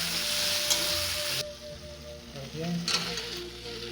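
Tomatoes dropped into frying spices in a pan for a mess-style chicken and potato curry give a bright, close sizzle that cuts off suddenly and then flares again, with faint stirring and a voice in the background.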